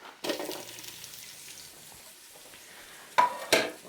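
Onions going into preheated oil in a Ninja Foodi set to saute, giving soft sizzling with a few sharp clatters and bursts near the end, no talking.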